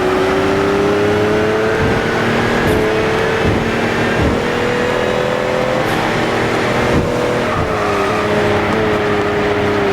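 Racing car engine in the GT Sport video game, a loud steady drone with a sustained tone that shifts slightly in pitch while driving through a tunnel, one continuous sound with no echo or gear changes.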